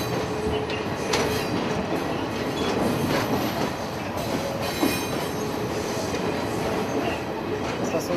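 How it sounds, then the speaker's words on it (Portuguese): A train passes at Jaraguá station, its rolling wheels and rail clatter forming a loud, sustained rumble with occasional squeals and clicks throughout, no voices on top. "Trem foi e ainda é tudo no Jaraguá, porque ele é um veículo mais rápido de transporte."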